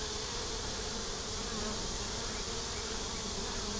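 Honey bees buzz loudly and continuously at an open beehive during an inspection, a dense close swarm drone with no pauses and no voices.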